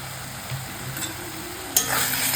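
Tomatoes with salt being stirred and sautéed in a pan, a steady close sizzle with light scraping of the spoon that jumps in loudness near the end.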